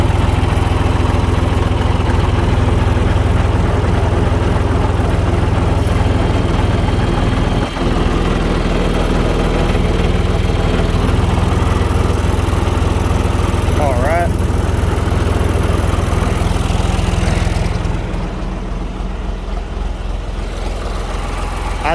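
A John Deere 2155 tractor engine idles steadily and loudly throughout, a continuous low rumble that drops somewhat in level near the end, with no talk over it.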